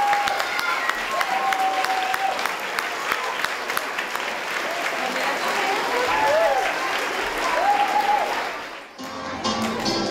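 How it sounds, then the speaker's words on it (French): Applause from an audience at a French after-school children's show, a dense sustained wash of clapping with whistle-like cheers, fading out near the end before a brief quieter passage. "la salle ne s'est pas montrée avare en applaudissements"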